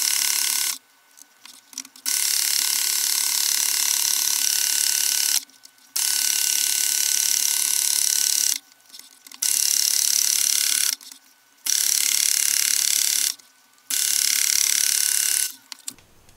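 A milling machine cuts a custom profile cutter with a bright, hissing metal-cutting whine in about six steady bursts, each separated by a brief near-silent pause.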